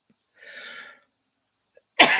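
A person gives one harsh, drawn-out cough, then after a brief quiet a second sharp cough starts abruptly, loud and close.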